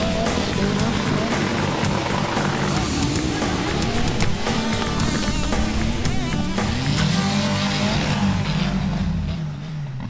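Extreme four-wheel drive off-road vehicles at the Johor Offroad Charity Challenge, engines droning and revving loudly throughout with rising and falling pitch, close by, over outdoor noise.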